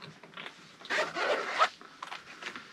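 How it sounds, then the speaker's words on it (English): A zipper on a Knit Pro Waves knitting needle case is pulled open in quick rasping strokes, close and fairly quiet, with the longest pull in the middle and short tugs at the end. "It's got a nice zipper pull."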